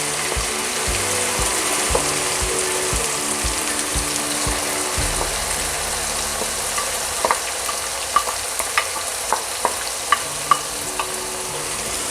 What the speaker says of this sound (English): you want to actually make sure you're frying this curry, because when it's sizzling